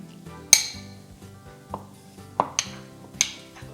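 A utensil mixes egg yolk, cream cheese and diced prosciutto filling in a bowl, with a few bright clinks and scrapes against the bowl, close and clear and spaced out, with no talk.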